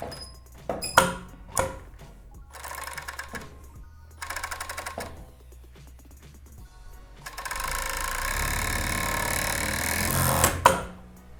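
A sewing machine stitches the crotch seam of a garment in bursts, with short clattering runs and pauses early on and then one longer continuous whirring stretch, close by and without talk.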